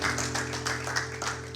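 Church congregation applauding and clapping in a rhythmic, steady pulse at moderate distance over a sustained low musical drone, with no talk.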